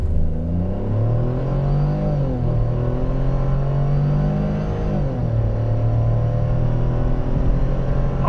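A 2024 Ford Bronco Sport's 1.5-liter three-cylinder engine accelerates hard with a loud, close, continuous drone whose pitch climbs, dips briefly twice as gears change, then rises again.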